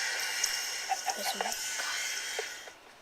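A chicken clucking in Minecraft, several short, faint clucks over a constant hissy background, with no one talking.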